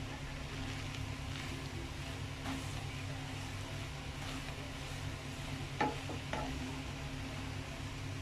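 Mango rice being stirred in a pan on the stove, a soft continuous scraping and sizzling texture with a couple of faint clinks, quiet and steady under a low background hum.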